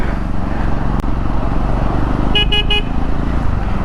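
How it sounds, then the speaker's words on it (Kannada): Three short toots from the single horn of a Triumph 400 motorcycle sound over the loud, steady rumble of the engine and wind while riding. "ಇದಕ್ಕೆ ಸಿಂಗಲ್ ಹಾರ್ನ್ ಕೊಟ್ಟಿದ್ದಾನೆ, ಡಬಲ್ ಹಾರ್ನ್ ಕೊಟ್ಟಿಲ್ಲ ಇದಕ್ಕೆ."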